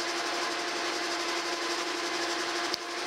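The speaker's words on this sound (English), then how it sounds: "I'm going to drill it about an inch deep" A drill whines steadily as it bores about an inch into metal on a steam stoker engine valve assembly, a continuous motorized grind that cuts off abruptly with a click near the end.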